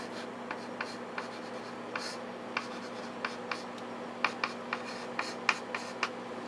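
Pen or pencil writing out math equations by hand, a quiet series of short scratchy strokes and taps at an irregular pace, close up over a steady low room hum, with no talk.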